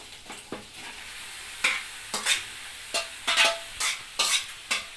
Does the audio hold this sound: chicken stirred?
yes